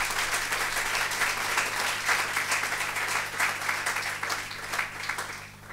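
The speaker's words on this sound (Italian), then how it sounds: "un grande che secondo me si merita un applauso, che è Giorgio Terziani" Audience at a talk or ceremony applauding warmly, with sustained, dense clapping that stays fairly close and steady throughout, over a low steady hum.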